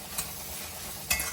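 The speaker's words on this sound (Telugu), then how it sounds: "ఇది కూడా ఇందులో వేసుకొని చక్కగా ఫ్రై చేసుకోవాలండి" Ingredients for a Punjabi-style rajma curry fry in a pan with a steady, close, hissing sizzle, broken by two brief scraping stirs, with no voices.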